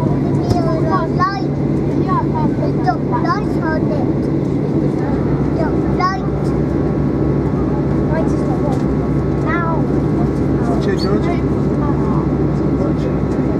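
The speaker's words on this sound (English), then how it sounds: "Now the Monarch service is about to take off. Her engine is revving off." A Monarch airliner's engines rev for takeoff at Birmingham Airport, a loud steady roar that runs throughout while people talk over it.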